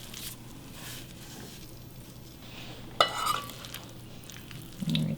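Beet salad made from four medium beets is mixed into a mayo dressing in a bowl, giving soft wet squishing and stirring sounds with a sharper scrape of the utensil against the bowl partway through.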